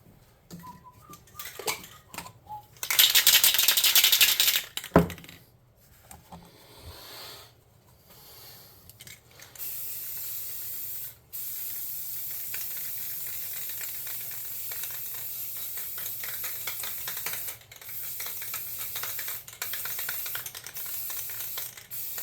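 Light rattling and clicks of a spray paint can, then a loud burst of hissing spray, followed by a long steady hiss of spraying that continues with brief pauses.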